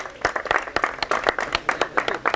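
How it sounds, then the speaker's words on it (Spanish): Spontaneous applause at a horse race prize ceremony at a jockey club in Curuzú Cuatiá: a brief burst of scattered hand clapping from a small crowd, fairly close, irregular and lively. "Ahí está el aplauso espontáneo"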